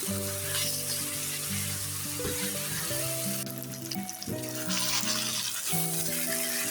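Fried potato and eggplant mixed into spicy pan dopiaza sizzle, with steady frying hiss and bursts of stirring, while a melodic tonal background plays throughout, nobody speaking.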